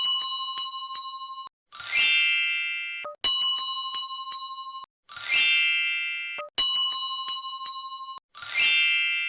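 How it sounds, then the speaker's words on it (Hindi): A magic bell from an animated Hindi folk tale rings in bright, clear chimes, sounding three times in a steady cycle with a sustained tone and small ding accents between each swelling ring. "उन्होंने उस जादुई घंटी से विनती की"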